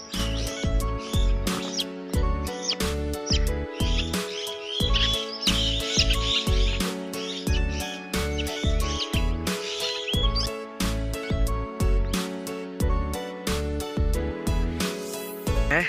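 Green parrots call repeatedly from their nest tree in an Uttarakhand hill village, shrill chirps and squawks coming in rapid bursts over a steady rhythmic pulsing background.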